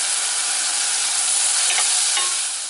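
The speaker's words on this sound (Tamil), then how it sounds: "பெரிய வெங்காயம் வதங்கிட்டு இருக்கும்போதே கருவேப்பிலை சேர்த்துக்கலாம்" Sliced big onions and curry leaves sauté in a hot pan for a drumstick kara kuzhambu, a steady close sizzle with a brief stirring scrape partway through, no voices.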